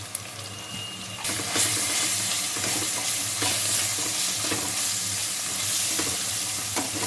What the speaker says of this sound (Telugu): అల్లం వెల్లుల్లి పేస్ట్ పచ్చి పోయే వరకు ఆయిల్లో వేయించుకోండి